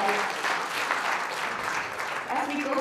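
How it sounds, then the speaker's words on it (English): Audience applause fills a conference hall in a steady, dense wash of clapping that stays loud and even throughout, with no clear pauses. "give them another round of applause, please, for excellent advice"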